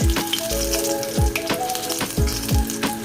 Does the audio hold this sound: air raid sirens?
no